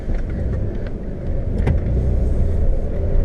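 A 1994 GMC Sonoma pickup with a rebuilt motor rolls in under a carport, its engine giving a steady low rumble close by, with a brief mechanical clunk partway through.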